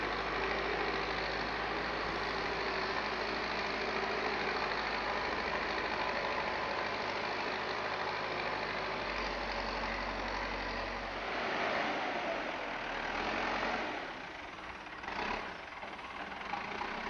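A JCB backhoe loader's engine runs steadily during earthwork for a building foundation, lifting and dumping soil. It makes a continuous, fairly close low drone that rises and wavers a little toward the end, with no voices.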